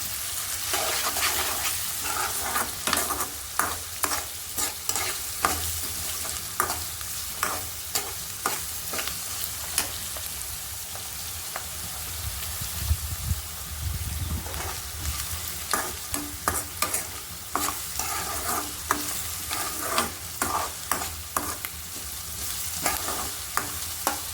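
Onions with salt sizzle and fry in a pan while a utensil stirs and scrapes through them in steady, repeated strokes, close up, with no voices.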